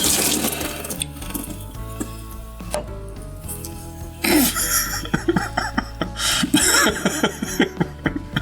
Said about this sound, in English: Whether it literally be the beer you are pouring out.